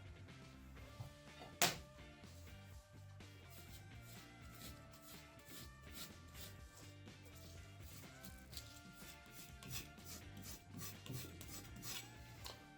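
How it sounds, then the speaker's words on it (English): A knife blade, sharpened on a brick, is drawn in several light passes across a leather strop, making soft, quiet rubbing strokes with a sharp click near the start. "And then give it a few passes on the leather."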